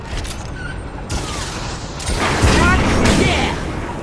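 Heavy weapon fire booms and crackles in Mass Effect 2 combat, several loud bursts building into a sustained, rumbling barrage, with characters shouting over it.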